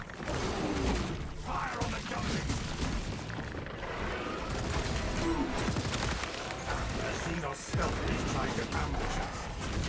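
Rapid gunfire and booming shots from a Space Marine video game, dense and continuous throughout with heavy low-end impacts, with voices calling out over the battle.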